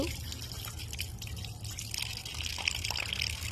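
Fish is rinsed under running water in a home kitchen, making a continuous splashing trickle with uneven drips, while a voice sounds faintly in the background.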